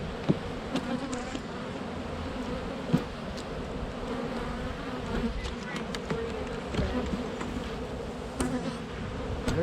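Honeybees buzz steadily in a dense, continuous drone throughout a late-December hive inspection with hive beetles present, close and loud, broken by a few sharp clicks and knocks from frames being handled.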